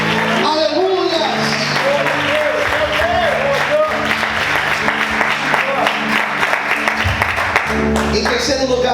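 A church congregation claps to praise God during a sermon, steady applause mixed with music and voices, loud and continuous.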